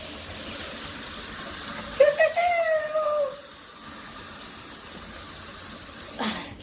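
An 8-inch high-pressure Tudoccy rainfall shower head sprays water as a soft, steady hiss, with a voice briefly speaking over it partway through.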